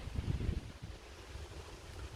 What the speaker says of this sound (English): I apologise if it's a bit windy, folks.